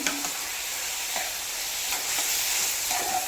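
Ginger paste hitting a pan of frying liver sizzles with a steady hiss, joined by stirring scrapes and a few soft knocks. The sound is close, continuous and moderately loud, with no voices.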